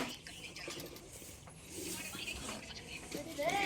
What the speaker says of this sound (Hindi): पहले उल्टा की साइड में इस तरह से 1/2 इंच रखकर सिलाई कर रही हूँ।